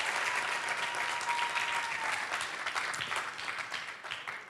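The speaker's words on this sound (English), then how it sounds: "you deserve a round of applause for what you are doing today" An audience at a youth drug-prevention program event gives a round of applause, a lively burst of clapping that gradually thins and fades toward the end.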